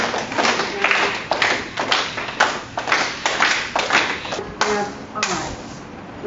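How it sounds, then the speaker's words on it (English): A yoga class claps hands in a steady rhythm, a dozen or so sharp, fairly close claps in sequence, with some talking mixed in. "I want you to clap your hands."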